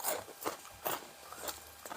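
Microwaved potato chips crunch between the teeth in several sharp bites and chews, close and fairly quiet, with no talking over them.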